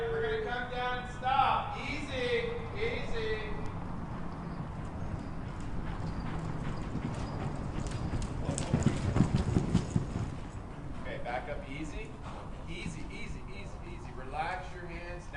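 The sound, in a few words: horse hooves clip-clopping during fence riding practice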